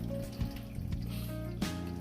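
Hot water pours into a pan around a cheesecake for a water bath, a short close trickle and splash.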